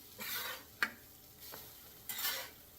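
French toast fries quietly on a new flat top griddle with a soft, steady sizzle, broken by a few scraping spatula taps and clicks.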